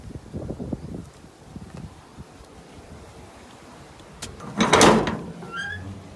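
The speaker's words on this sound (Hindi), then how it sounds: "दरवाज़ा खोला" A door opens at a rural site with a solar tube well system, a scraping, rattling burst near the end over faint wind and insect buzz, with scattered low knocks earlier.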